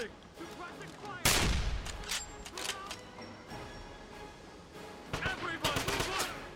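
Gunfire from the video game Wolfenstein (2009): a loud opening blast, then irregular bursts and single shots that come in clusters over a busy combat background.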